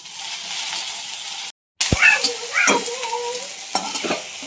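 Okra roasting in leftover oil from frying papad, sizzling steadily with a brief silent gap, then sharp stirring scrapes and crackles close by.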